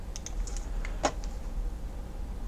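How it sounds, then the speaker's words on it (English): Computer keyboard keys tapped and a mouse clicked during CAD modelling work, a few sparse, close, crisp clicks spread across a quiet background. "I'm doing this by hitting the Control key and then clicking my center scroll wheel"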